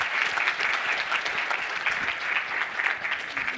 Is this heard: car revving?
no